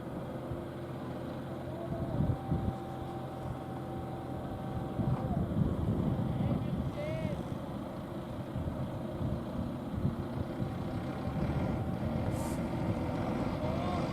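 A heavy bulldozer diesel engine drones and rumbles steadily under strain for a long stretch while pulling a sunken tractor on a riverbank, with faint voices in the background.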